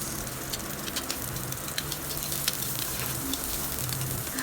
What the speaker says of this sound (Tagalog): Igisa ang bawang sibuyas.